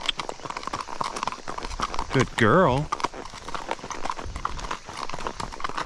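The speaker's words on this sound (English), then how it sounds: "this is this horse's very first time ever being ridden legitimately" Horse hooves clip-clop at a steady walking rhythm on a trail ride, carrying a young mare on her first real ride. A rider's voice talks over the hoofbeats, and the horse gives a brief whinny midway.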